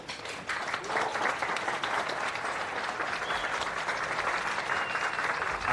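Audience applause at a televised show in a drama series, dense and sustained for the whole stretch, with no talk over it.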